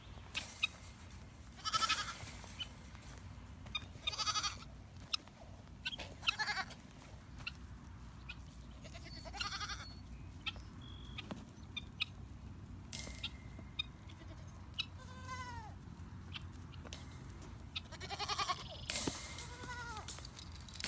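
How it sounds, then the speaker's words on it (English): Goats bleat repeatedly, several wavering cries near and farther off, spaced irregularly over a steady outdoor background hum. "let's head on over and see the goats"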